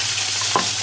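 Beef meatballs sear in olive oil with a brief, steady sizzle and a soft stir or clink partway through, heard close and alone.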